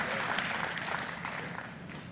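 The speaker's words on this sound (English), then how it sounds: "Give God a big clap." Church congregation clapping in praise during a live service, a steady dense wash of applause that holds loud and even throughout, with faint voices mixed underneath.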